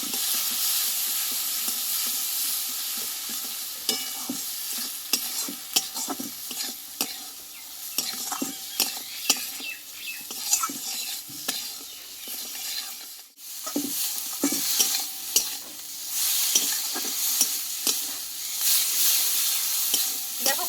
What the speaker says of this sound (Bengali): যেই মশলাটা একসঙ্গে ভালোভাবে কষিয়ে নেবো